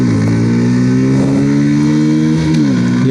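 A Bajaj Pulsar 125 BS6 motorcycle pulling away from a standstill in first gear, its loud engine revving steadily upward in pitch with brief dips as it accelerates, heard close and alone.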